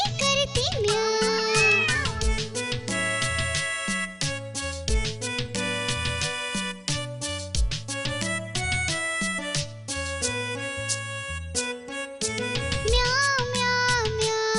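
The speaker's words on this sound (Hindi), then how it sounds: "बिल्ली करती म्याऊं।" A cat meowing over a busy, full children's Hindi nursery rhyme backing track, with several high wavering meow-like calls rising above steady music throughout.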